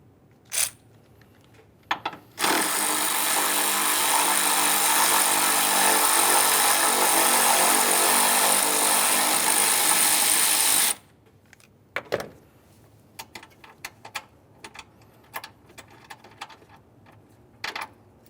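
A power tool whirs loudly and continuously for about eight seconds while removing a 13mm mounting bolt on a 2015-2020 Ford F-150 3.5L V6. Scattered clicks and metallic clinks of handling follow after it stops.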